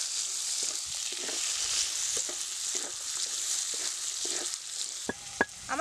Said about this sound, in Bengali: কাশ্মীরি কাঁচা লঙ্কা, টমেটো কুচি, এগুলো সব একসাথে একটু ভাজতে হবে।